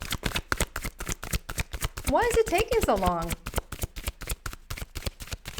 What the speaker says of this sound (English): It's always shuffling.